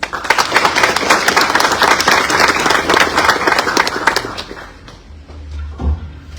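Loud applause from the audience at a Peruvian climate change forum, dense clapping sustained for several seconds before thinning out, with a few scattered claps and a low rumble at the end.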